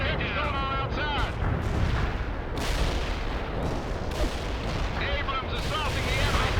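An artillery barrage in the World in Conflict video game pounds as a dense series of loud, booming impacts that roll on without a break, with occasional radio-style voices underneath.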